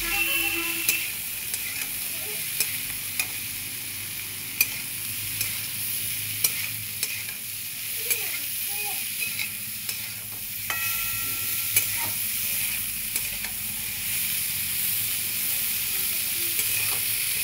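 A salted cauliflower paratha filling sizzles in a pan as it is stirred, with a constant frying hiss and scattered light scraping ticks of the spatula, no voices.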